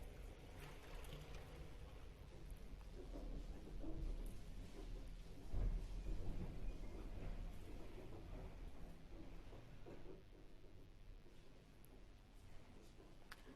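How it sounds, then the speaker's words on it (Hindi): A violent thunderstorm rumbles with deep, rolling thunder and steady rain noise, building to a loud peak midway before easing, heard without any talking. "बहुत भयानक तूफान आ गया भाई।"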